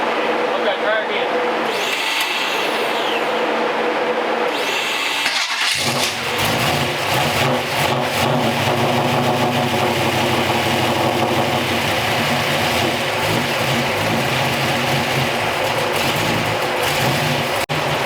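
A small block Chevy engine with a carburettor cranks and fires up, then settles into a steady, rumbling run that continues close by.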